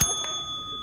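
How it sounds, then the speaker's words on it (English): A single bright ding of a bell, a sharp strike that leaves a clear, sustained ringing tone slowly fading, close and alone. "Let's ding the bell."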